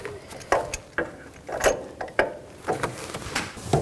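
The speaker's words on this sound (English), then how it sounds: "use a 14mm socket" Ratchet wrench with a 14mm socket loosening the upper shock nut on a 2007-14 GMC Sierra 3500HD truck, working from under the hood: a few separate close clicking bursts spaced irregularly, with no talk.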